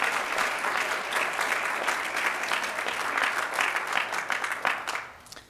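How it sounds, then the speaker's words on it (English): A church congregation at a Baptist service gives a round of applause, a dense, sustained clapping from many hands that carries steadily and begins to fade in the last moment. "Let's give JR one more round of applause."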